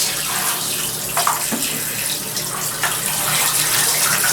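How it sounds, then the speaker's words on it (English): Running water rinses a Honda CB400 VTEC engine head indoors during cleaning before paint, a steady close gush of tap water with brief splashy changes where the metal interrupts the flow. "This is the final rinse."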